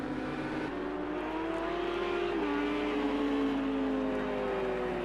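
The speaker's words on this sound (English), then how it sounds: "That Lamborghini is using every bit of its horsepower to stay away from the Porsche." A Lamborghini engine races hard near a pursuing Porsche at Hockenheimring in a racing video game, a sustained loud droning whine with a gear shift midway and steady high revs throughout.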